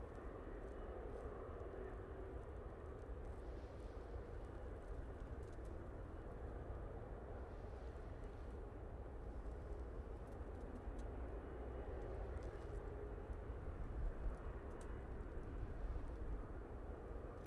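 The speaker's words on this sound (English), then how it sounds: "737 freighter coming in from EMA" An ASL Boeing 737 freighter comes in to land at Manchester Airport, a faint, distant jet roar that builds slowly and steadily, with faint birdsong in the background.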